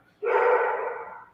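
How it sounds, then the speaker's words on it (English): One close, drawn-out bark or yelp from a dog, loud and sudden, fading over about a second against quiet surroundings. "What you barking at?"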